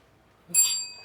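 A single bright timer bell rings once at a business networking meeting, a sharp ding that rings on briefly after a quiet room.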